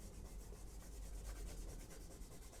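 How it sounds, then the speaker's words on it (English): An eraser rubbed back and forth over a pencil grid on drawing paper, quick rhythmic scrubbing strokes repeating steadily and close, with no talking. "Now I'm going to erase around the edge."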